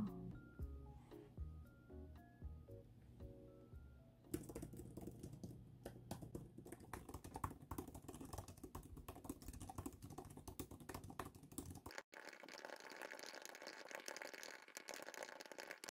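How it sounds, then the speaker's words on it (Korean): Steady typing on an iPad Pro Magic Keyboard, a quick run of soft clicking keystrokes heard close up, with music-like tones in the background at first. "확실히 이 키보드 두드리는 타건감은 그냥 노트북 사용하는 것처럼 굉장히 좋아요."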